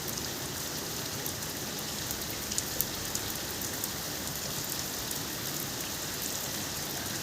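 Steady rain falls in a constant, even hiss with faint scattered drips, moderately distant and uninterrupted, with no voices.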